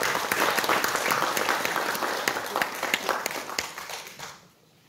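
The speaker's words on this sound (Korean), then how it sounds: "우리 다시 한번 그분들한테 박수 한번 해드립니다" An audience at a Korean patriotic award ceremony applauds the recipients with dense, lively clapping that stays strong and then fades away to near silence at the end.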